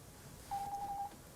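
A single steady telephone tone sounds for about half a second, clear but modest in level, over a quiet room during a question-and-answer session.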